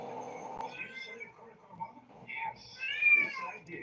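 A house cat meows several times nearby, short plaintive cries rising and falling, mixed in with a person talking.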